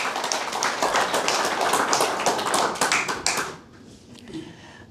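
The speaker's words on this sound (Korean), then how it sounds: "박수 하시겠습니다." A church congregation at Somang Church claps together in a loud, dense round of applause. The clapping stops abruptly after a few seconds, leaving quiet room sound with a faint voice.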